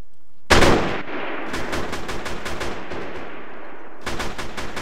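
Gunfire in the military shooter game Arma 3 opens with a sharp loud shot, then rattles on as sustained automatic bursts at mid distance, with a short lull before another volley near the end.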